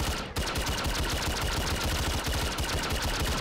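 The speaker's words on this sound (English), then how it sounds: "Very, very noticeable loud custom sounds. Can you tell it's a laser rifle?" Rapid-fire shots from the MTZ-556 assault rifle in Modern Warfare 3, fitted with custom laser sounds, loud and close in a fast continuous burst after a brief break near the start.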